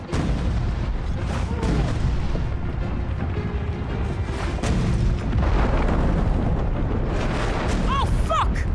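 Booming cannon fire from a boat in the game Expeditions: Samurai, a dense run of loud blasts and rumbling under battle noise, with voices talking over it throughout.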